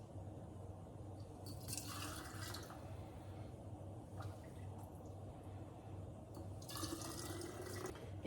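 Chicken bone broth poured into canning jars, a faint continuous liquid trickle and splash with short louder bursts as each jar fills, quiet and close.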